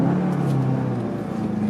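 A 2019 VW Jetta GLI MK7 sports sedan accelerates with a steady, close engine drone and whirring hum that holds throughout, with no talk over it.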